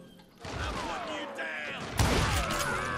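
Gunshots in the Western shooter Call of Juarez: Gunslinger, a sharp broadband blast at about two seconds ringing out over a busy game soundscape with earlier thuds and clatter, loud and close.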